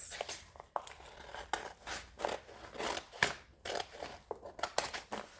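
Scissors snip repeatedly through woolly underlay lining inside a handmade journal, crisp crunchy cuts coming in an uneven rhythm, close and fairly quiet with no talking.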